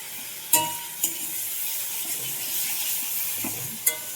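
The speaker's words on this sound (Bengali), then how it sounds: "তো আমার ভাজা ভাজা হয়ে গেছে পেঁয়াজটা আর আদা রসুনটা" Onion, grated ginger and garlic frying in oil: a steady, close sizzling hiss runs throughout, broken by a few sharp clicks of a spatula against the pan.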